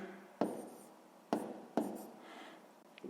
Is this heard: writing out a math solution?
yes